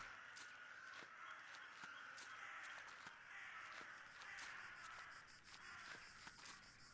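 Crows caw repeatedly in the PC game The Last Door, sharp calls recurring throughout over a steady ambient hiss, fairly faint and alone with no talking.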